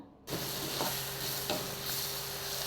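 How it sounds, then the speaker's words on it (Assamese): Onion and green chili with turmeric and salt sizzle steadily in hot oil in a pan; a dense, continuous frying hiss starts abruptly and stays close and even, with a few faint stirring scrapes. "এতিয়া এইখিনি ৰংচঙুৱা হোৱালৈকে ভাজি ল'ম।"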